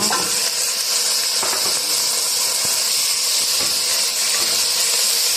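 Ingredients for Arabic saluna sizzle in a hot pan while being sautéed, a steady close hiss and crackle with occasional soft clinks of stirring, and no talk.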